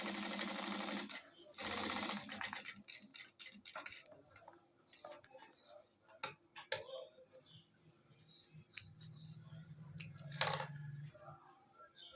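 A sewing machine runs in bursts while stitching a shirt collar in a tailor's shop, its rapid mechanical whir starting and stopping with brief gaps, joined by scattered clicks and handling noises.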